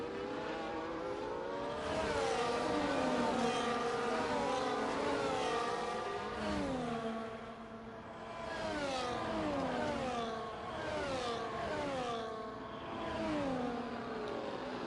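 McLaren and Red Bull race cars in a racing video game at Circuit of the Americas, engines whining and revving up and down through repeated gear shifts, several cars close together, steady and fairly loud.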